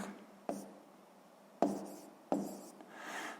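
Pen or pencil strokes scratch across paper in three short bursts while numbers are written, close and quiet, with soft rubbing between strokes and no voices.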